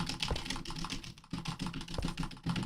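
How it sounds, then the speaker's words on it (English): Computer keyboard keys clatter in fast, continuous mashing during gameplay of the cyberpunk grappling game SANABI, with dense, close, loud clicks and only a brief pause midway. "I'm sure you can just hear my keyboard clicking."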